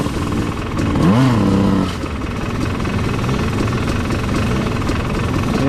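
Lightweight push-start trail motorcycle on a dirt trail course in Bulacan, engine revving briefly near the start and then running on as a steady, rough drone throughout.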